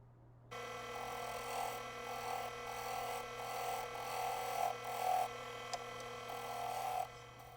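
A wood lathe spins a purpleheart and opal inlay pen blank at about 1300 RPM, a steady close whirring hum that starts abruptly and carries faint rasping tool contact, with no talking.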